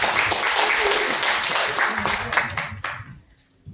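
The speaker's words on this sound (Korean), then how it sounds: "큰 박수 부탁드리겠습니다." An audience of union members at a 2021 education session claps loudly and densely, then the applause thins out and fades near the end.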